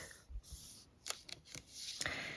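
Sheet of 6 x 6 inch craft paper folded back into a treat pouch, giving a few quiet, crisp rustles and soft creases in short bursts, close and faint against near silence.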